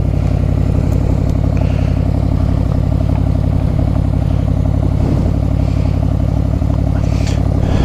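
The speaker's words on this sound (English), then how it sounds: "I'll just let it idle for a sec." A Yamaha Royal Star XVZ1300 motorcycle, running on a swapped single carburetor, idles steadily up close with a loose, loud, rhythmic rumble and light mechanical clatter throughout.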